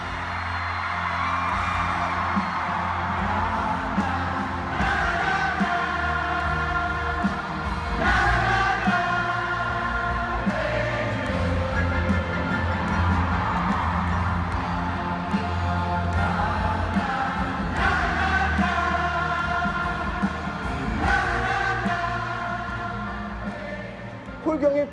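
A huge concert crowd sings a na-na-na refrain in unison, a loud sustained chorus of many voices with cheers and whoops rising over it.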